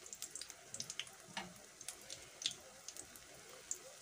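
Vegetarian burger patties frying in a pan, a quiet, steady sizzle with scattered soft crackles and pops, heard alone without talk.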